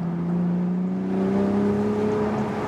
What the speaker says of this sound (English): It almost sounds a little bit like a Formula One car